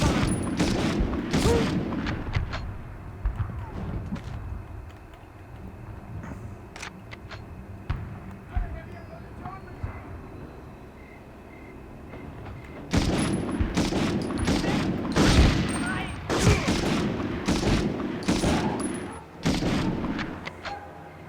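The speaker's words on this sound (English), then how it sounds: "I hear a lot of shots going off." Bursts of gunfire and booming explosions in the video game Medal of Honor, loud and dense, easing to a quieter stretch before a fresh heavy volley of shots.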